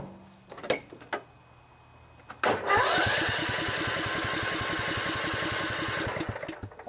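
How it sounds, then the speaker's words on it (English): A Kohler Command 14 engine on an old riding lawnmower that has been sitting a while, cranking and then catching into a loud, steady running drone with a fast even pulse. "it's a Kohler, what is this, a Kohler Command 14. Actually seems to run pretty decent."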